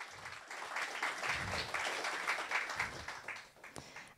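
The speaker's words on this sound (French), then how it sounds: "pour les applaudissements." Moderately faint crowd applause carries on steadily for a few seconds at an entrepreneurship award ceremony, with a few voices murmuring underneath.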